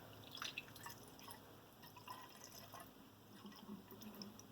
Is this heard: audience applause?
no